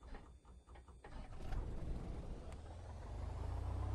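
A Piper PA-28 Cherokee engine cranks and catches in the FSX flight simulator, a starter whir building into a steady low rumbling idle that grows louder and holds.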